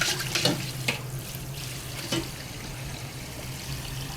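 Tap water runs steadily into a kitchen sink while pork is being rinsed of burnt bits, a constant close splashing hiss broken by a few sharp clinks and knocks of items against the basin.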